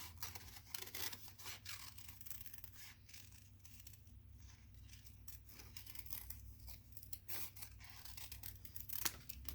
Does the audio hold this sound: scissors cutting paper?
yes